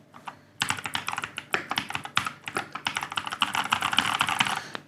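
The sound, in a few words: Keychron K2 Pro mechanical keyboard typing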